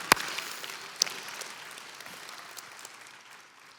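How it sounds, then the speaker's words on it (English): A congregation applauds a preacher's point at a sermon, with a sharp clap burst at the start that fades into scattered, thinning clapping over a few seconds, with no voices. "give that a round of applause if you want."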